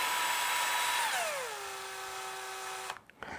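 Power drill driving 5x70 screws into wood while building a small table: a steady high whine that winds down to a lower pitch and holds, then stops with a couple of short clicks and knocks at the end.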